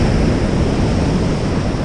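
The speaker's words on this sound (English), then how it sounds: "but still plenty of waves, not as big, obviously" Ocean waves wash onto a shore at a resort strip before sunrise, a steady, loud, broad rushing surge with wind buffeting the microphone and no pauses.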